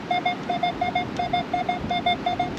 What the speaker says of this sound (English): I finally got a good signal.